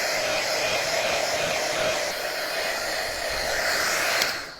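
A hair dryer blows steadily and loudly while drying a painted stencil farmhouse craft sign, a continuous airy roar that holds for several seconds before easing off at the end.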